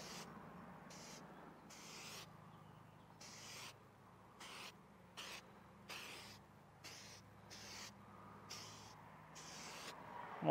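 Repeated bursts of hissing spray from a spray can applying a coating, each lasting under a second, come in an irregular rhythm with short pauses between them against a quiet background.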